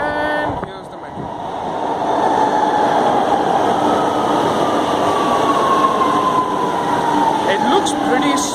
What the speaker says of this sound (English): And here's the metro.